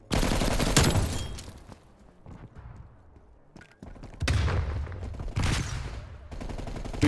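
Gunfire in Call of Duty Cold War during a prop hunt match: loud bursts of rapid automatic fire at the start and again later, with quieter scattered shots and game noise between.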